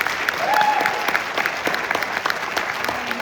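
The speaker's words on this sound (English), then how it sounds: "Can we give another round of applause to all of my percussionists who helped out this evening?" A concert audience claps for the percussionists after a high school orchestra winter concert, a loud, continuous burst of applause with distinct individual claps throughout.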